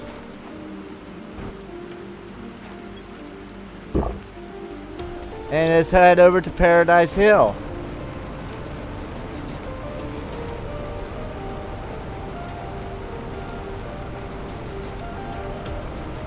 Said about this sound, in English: Maybe all this rain will help my trees grow a little bit.